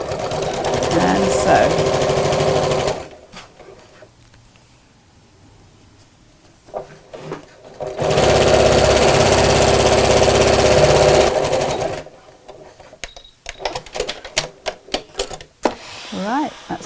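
A sewing machine stitching a drawstring beach bag in two loud, close bursts of steady rapid whirring, a few seconds each, separated by quieter handling, with a person talking briefly afterward.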